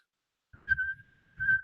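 A lone person whistles a sustained, wavering note twice in imitation of a jeering, booing boxing crowd, with breathy bursts at each onset and a short lull between the two close, fairly loud blows.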